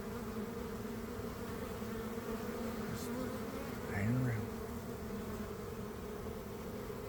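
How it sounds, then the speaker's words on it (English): A settled cluster of honey bees from a swarm hums in a continuous low buzz close by, with a single bee passing louder near the end. A person briefly speaks quietly. "Nice little cluster of bees here on the corner"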